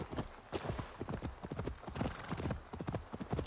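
Horse hooves in Assassin's Creed Valhalla, a brisk, rhythmic clip-clop of a horse on the move, close and continuous, with a faint whinny and no speech.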